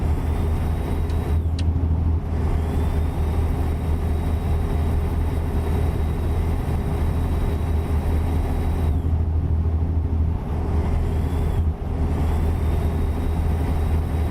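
Truck in American Truck Simulator driving through snow in a blizzard, a steady loud low engine drone with constant road rumble, a thin whine rising and falling at times, no talk.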